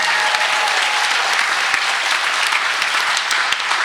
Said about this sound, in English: Let's give everybody a round of applause already.